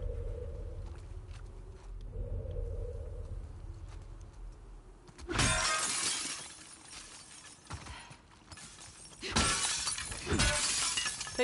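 Glass shattering in The Last of Us video game: a quiet opening gives way to two loud bursts of breaking glass with scattered crashing debris, heard alone without talk.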